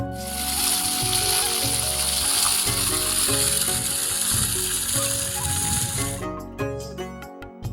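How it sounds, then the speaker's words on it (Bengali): Water pouring off a road into paddy fields makes a loud, steady rushing close by, cutting off abruptly near the end and leaving a few scattered knocks. "রাস্তার উপর দিয়ে এখানে জল পড়ছে মাঠে"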